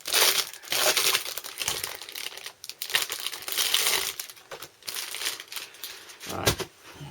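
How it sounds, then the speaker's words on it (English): Plastic cellophane packet of card bases torn open and handled for papercraft, a steady close crinkling and rustling of wrapper with brief crushing bursts throughout, no talk. "Oh, I'll have to open a new packet."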